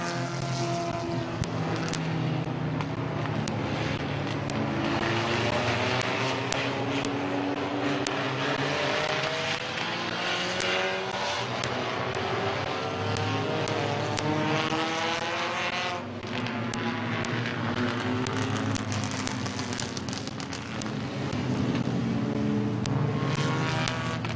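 Race cars roar around Midvale Speedway during a B main event, a dense continuous engine drone with rising and falling pitch sweeps as cars pass, loud and sustained throughout.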